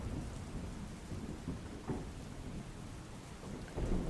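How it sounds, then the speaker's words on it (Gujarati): Steady rain falls over the city of Surat during a monsoon shower, a dense, even hiss of drops with a low rumbling undertone, continuous and fairly close, with no voices. "વરસી રહ્યો છે વરસાદ"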